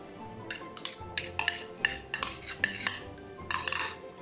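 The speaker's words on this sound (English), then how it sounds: "We're going to give this a good mix." A spoon clinks and scrapes against a bowl while mixing a bourbon cranberry sauce with maple syrup, cinnamon and nutmeg, in irregular close taps and stirs with no talk.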